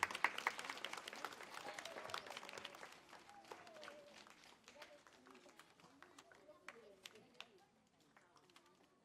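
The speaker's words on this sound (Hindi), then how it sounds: "इसके लिए आप लोग जोरदार ताली बजाइए" Clapping from an audience at a primary school award ceremony starts fairly strong and then thins into scattered claps, with faint chatter running underneath.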